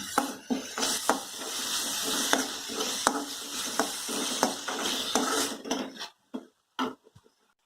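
Chaat masala and tomato sauce being fried in a pan for poha, heard as a close rattling, clattering stir with a low sizzle underneath that stops abruptly, leaving a few last faint taps.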